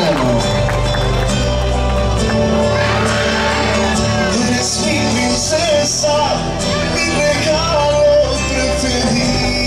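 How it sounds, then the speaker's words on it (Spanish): Guests at a family waltz celebration applaud and cheer loudly for a relative called to the dance floor, with shouts and whoops under continuous party music. "Que se escuchen fuertes los aplausos para su tío Rubén Serrano."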